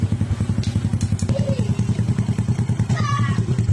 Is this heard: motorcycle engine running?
yes